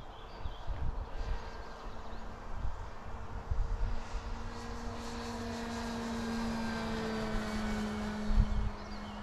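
Model airplane motor at half throttle from an RC flying field, a steady buzzing drone with a sustained tone that holds fairly even throughout, at a moderate distance with outdoor wind rumble underneath.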